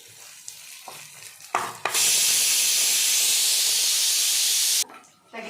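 Ginger garlic paste sizzles loudly in a hot pan for about three seconds, a steady close hiss that starts abruptly after a few soft kitchen clatters and cuts off sharply.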